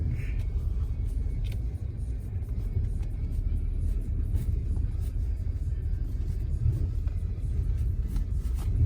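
A BMW xDrive car plows through deep snow, its engine a steady low rumble with crunching and scraping underneath, close and continuous with little talk.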